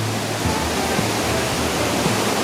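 Loud, unbroken rushing of a swollen, raging river at Hopewell Rocks in the Bay of Fundy, heard up close as a thick, steady roar of turbulent water.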